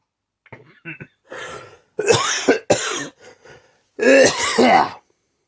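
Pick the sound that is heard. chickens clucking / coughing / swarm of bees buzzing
coughing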